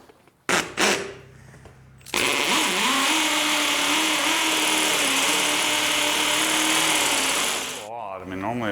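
A power drill bores into concrete and strikes rebar during a two-car garage build, grinding loudly and steadily for several seconds after short bursts, with people talking briefly at the start and end.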